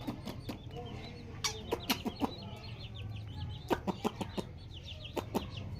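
Young chicks cheep in quick, high-pitched peeps, scattered and then bunched together, fairly faint and close over a low background hum.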